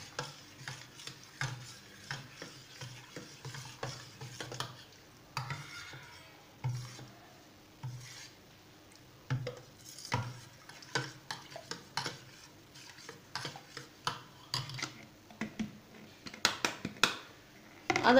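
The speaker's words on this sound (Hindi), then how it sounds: "बस हिलाते रहे उल्टे चम्मच से एकदम स्पीड से," Malpua batter of milk and maida being whisked fast with an upturned spoon in a bowl, a steady run of quick scraping, clinking strokes close by with no talk.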